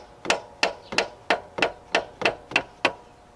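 Hammer tapping a remanufactured alternator part into place on a 2000-2006 GM truck, with eight sharp metallic blows in a steady rhythm, close and fairly loud, each ringing briefly before the next.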